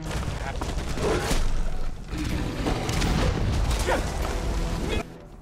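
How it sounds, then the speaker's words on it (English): Loud rumbling blasts and crackling bursts from a gas explosion in Conan Exiles fill the clip, with heavy low booms continuing for several seconds before cutting off abruptly. "Spam all the gas and make a big explosion."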